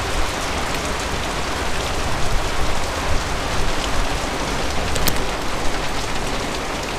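Heavy rain pours steadily in Tagaytay, a dense even hiss with no voices.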